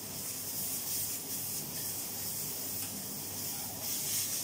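Noodles hiss and rustle in a hot stir-fry pan in a college kitchen, a steady close sizzle with soft scraping movement and faint surges.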